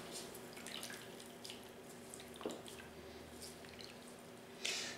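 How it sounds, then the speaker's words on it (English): Water trickles and drips as cooked spinach is wrung out in a flour sack towel over a kitchen sink, faint soft splashes and squishy dribbles with a louder splatter at the end. "you want to get as much of the water out of the spinach as possible. So just squeeze the towel"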